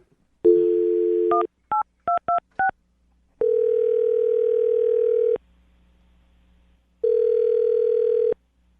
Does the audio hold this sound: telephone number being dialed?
yes